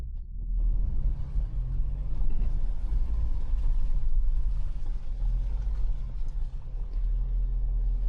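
A 2026 Dacia Duster Hybrid-G 150 4x4 engine rumbles steadily while river water churns and sloshes around it, a continuous heavy low roar from close by with no talking.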